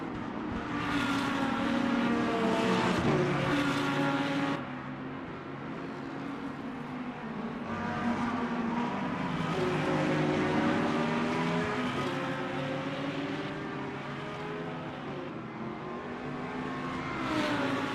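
GT3 race cars, a Corvette among them, in the Le Mans Ultimate sim at Interlagos: engines roar and rev continuously, rising and falling through gear changes, loud and close for the whole stretch.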